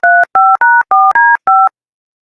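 A telephone number being dialed for a call: six crisp, evenly spaced keypad tones, each a steady two-note beep, heard up close with no talking, followed by silence.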